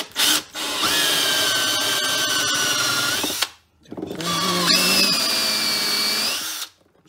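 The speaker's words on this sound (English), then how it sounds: "Now I got a step drill." A power drill with a step bit bores a hole steadily with a whining, grinding tone in two long bursts, pausing briefly between them, close and loud.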